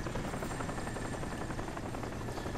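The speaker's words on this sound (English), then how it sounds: "that was a Korean helicopter" Korean helicopter in the game Crysis, a continuous rotor drone with a steady rhythmic chop at moderate loudness.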